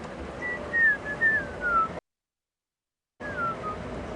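A person whistles an imitation of a black-crowned tchagra's call, a few descending phrases, pauses in silence, then whistles a short phrase again; fairly quiet and close.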